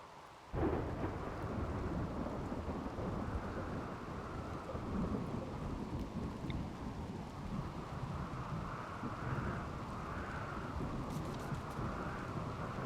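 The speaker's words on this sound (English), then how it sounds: "I just heard the thunder crack." Rumbling thunder with a steady downpour of rain in the RimWorld video game, a continuous broad wash of storm noise holding at an even level throughout, with no talk.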